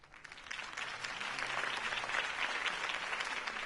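Crowd applause in the Batman Telltale video game, with a dense, even wash of clapping from a large gathering that holds steady at moderate loudness.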